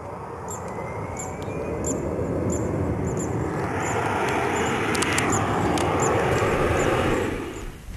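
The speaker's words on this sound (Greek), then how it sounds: "Τόσο κοντά ήρθε το ένα αεροπλάνο με το άλλο." Airplanes at an airport in a near-collision roar loudly and steadily close by, the engine noise swelling and holding before easing off at the end, with faint high chirps above.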